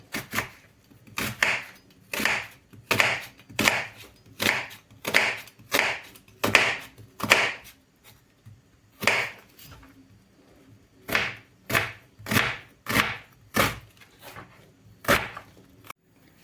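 Knife dicing an onion into cubes on a cutting board, a steady run of crisp taps in two bursts separated by a short pause, close and clear.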